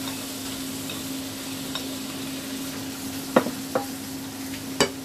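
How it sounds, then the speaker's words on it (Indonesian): Onions sauté in a hot pan for chilli con carne, a soft steady sizzle under a constant low hum, broken by a few sharp utensil clicks and taps against the pan; no one speaks. "tumis bawang bombaynya dulu"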